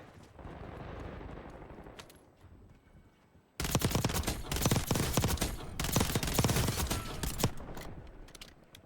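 Rapid SMG bursts in a Warzone match, loud and close, firing in quick repeated volleys after a quieter stretch of background game noise.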